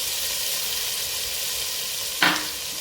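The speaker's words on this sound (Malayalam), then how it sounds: "ഇതിലേക്ക് നമ്മൾ നേരത്തെ എടുത്ത് വെച്ചിരുന്ന ജിഞ്ചർ ഗാർലിക് പേസ്റ്റിൻ്റെ ബാക്കിയില്ലേ, അതങ്ങോട്ട് ഇട്ട് കൊടുക്കാം." Ginger garlic paste sizzles steadily in butter in a pan for butter chicken, a close continuous hiss capped near the end by one short louder burst as more goes in or gets stirred.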